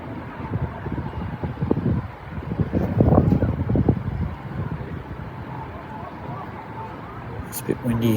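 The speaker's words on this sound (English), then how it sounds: "It's a bit windy here at the moment." Wind blowing outdoors at a minor singles bowls match, gusting rumble buffeting the microphone in uneven surges, loudest in the middle, with someone talking over it.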